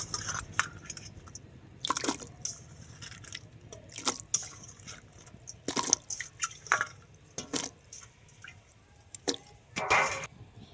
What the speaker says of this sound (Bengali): কেটে রাখা ফুলকপিগুলো আমি দিয়ে দিচ্ছি।